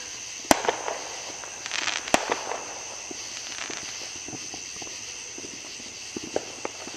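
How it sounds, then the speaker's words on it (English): Fourth of July fireworks popping outdoors: two sharp bangs early on, then scattered softer crackles and pops over a steady background hiss, with no talking. "All we're gonna do now is just watch the fireworks."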